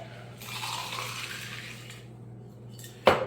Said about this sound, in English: we're just going to add a little bit of tonic water in that because it looked like it was a little bit thick